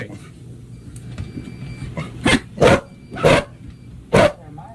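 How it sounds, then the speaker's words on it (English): A dog barks four times in sharp, loud bursts, spaced irregularly over quieter background noise. "that's a dog barking"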